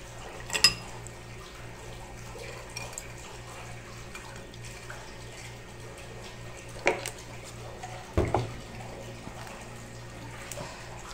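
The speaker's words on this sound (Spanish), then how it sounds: "Y ahora llegó el momento de agregar el jugo de naranja." Orange juice is poured into a glass of ice as a soft, steady liquid trickle, with a few sharp clinks and knocks near the start and around the middle.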